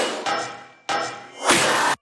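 A metallic sample by Umru sounds as three bright, ringing hits, the first two decaying over most of a second and the last a denser, noisier burst that holds before cutting off, loud and alone.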